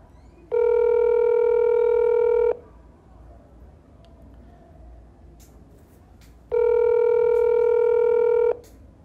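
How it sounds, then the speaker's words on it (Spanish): Two long electronic ringback tones sound from an outgoing WhatsApp phone call. Each steady, buzzing tone lasts about two seconds, and a quiet gap of about four seconds separates them. Faint background noise fills the pauses. "ya se le han hecho varias llamadas a su WhatsApp, pero tampoco responde"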